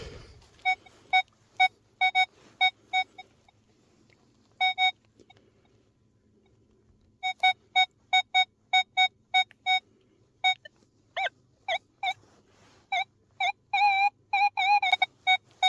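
Repeated sharp electronic beeps from a Legend WHP PRO metal detector sweeping the bed of the Dnipro river, coming in irregular bursts and clusters with a quiet gap in the middle, loud and close over a low background hum.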